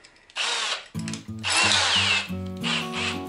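A power drill whines in bursts as a 1.5-inch paddle bit bores into wood for a birdhouse, the motor revving up and down with a rough grinding edge.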